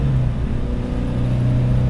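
A 1974 Alfa Romeo GTV 2000 engine holding steady revs from inside the car, a dense, loud, continuous droning rumble with no voices.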